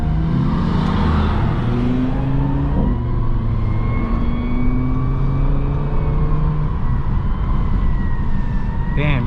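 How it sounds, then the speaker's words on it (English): An Audi RS3 with a DSG gearbox accelerates hard in sport mode, heard from inside the car as a loud rising engine note with a quick gear change partway through. "Damn, the DSG on this thing is crazy. Oh my god, it sounds so good."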